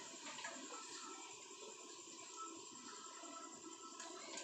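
Luchi frying in ghee gives off a faint, steady bubbling hiss that continues evenly throughout, with no talking.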